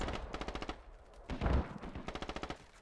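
M4 rifle fire in the video game Squad crackles in quick bursts of rapid shots, with a heavier thump in the middle, somewhat distant and fairly quiet.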